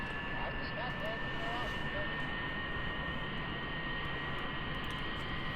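A jet aircraft takes off down a runway in the Kerbal Space Program video game, its engine a constant, loud roaring drone with a steady whine layered on top for the whole stretch.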